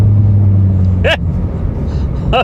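A cheap 2010 Mitsubishi Lancer drives on the street with a loud, steady low engine drone from close up, and two short high vocal yelps cut in over it.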